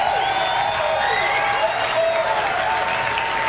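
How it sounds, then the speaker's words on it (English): Crowd cheering and applauding at the Bethesda E3 2018 press conference, a dense, steady roar of clapping and whoops filling the hall, loud and continuous throughout. "Did they cheer like that right there?"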